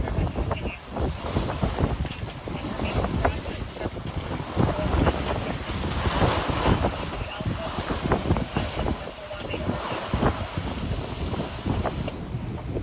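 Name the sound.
sailboat sailing through wind and seas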